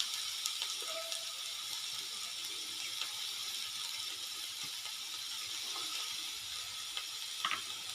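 Chopped onion going bit by bit into hot oil in a pan for a spicy onion chutney, giving a steady, close sizzle with faint clinks, no talking.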